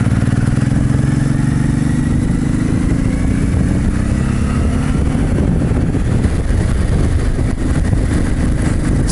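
A motorcycle engine roars loudly and continuously while riding along a road on a hot day through European resort towns, its drone steady with a slight rise in pitch.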